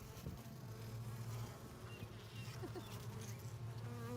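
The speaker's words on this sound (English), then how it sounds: "So these bees are just working away, bringing honey into the hive" Honeybees buzzing steadily at an open hive, a dense continuous drone of many wings close by, with no talk over it.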